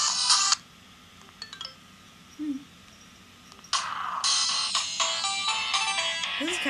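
A phone plays its built-in ringtone, a loud, bright electronic melody without words that cuts in briefly, pauses, then returns and sustains, with a few faint clicks in the gaps.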